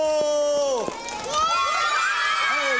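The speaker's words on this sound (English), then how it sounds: "Give yourselves a big round of applause." Children in a 1994 kids' TV studio audience cheer and shout together, a loud, bright, sustained crowd roar with high excited voices rising and falling, and an adult voice calls out over it.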